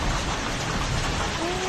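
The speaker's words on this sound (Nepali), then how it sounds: "टन्नै असिना आयो" Hailstones pelt a maize field in a dense, steady patter that holds at an even level from start to finish, with no voices.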